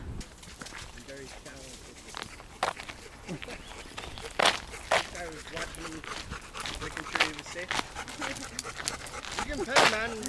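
A dog pants steadily nearby while its paws patter and shuffle, with people talking over it and a few sharper bursts of noise.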